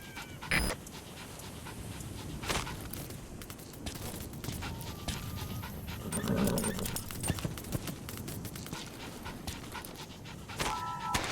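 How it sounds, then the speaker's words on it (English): A wild dog pup in Metal Gear Solid V pants in quick, close, rhythmic breaths, with soft footsteps and small clattering sounds around it and no talk. "Wild dog pup."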